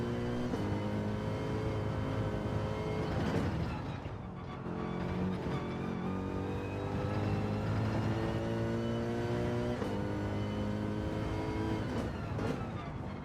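Racing engine of the new AMG race car in Gran Turismo 7 on the Yamagiwa circuit, a continuous loud droning roar with rising and falling pitch through gear shifts and a brief dip near a hairpin, alone with no talk.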